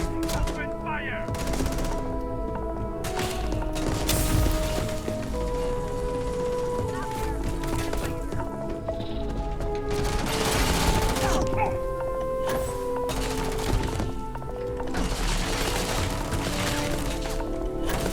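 Sustained gunfire in a Starfield firefight, with dense rapid bursts and repeated shots over about eighteen seconds, loud and close, mixed with impacts, music and voices.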